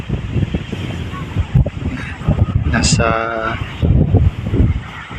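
Strong wind gusting over Helmet Peak, a mountain summit, roaring as steady broadband rumble and buffeting against the microphone, with a person talking over it throughout.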